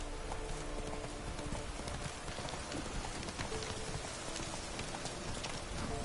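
Roach, a horse in the video game Witcher 3, trots through rain with rhythmic hoof clip-clops. A dense, loud patter of rainfall lies beneath the hoofbeats throughout.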